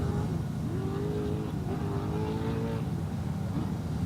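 A Class 1 two-wheel-drive desert race car engine drones loudly at a Baja 500 qualifier, its pitch climbing and then dropping at each gear shift as the car pulls away, with steady noise from the surroundings.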